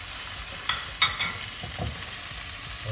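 A rib eye steak sizzles in a hot pan with a little oil, a steady close frying hiss with a few sharp crackles and utensil taps.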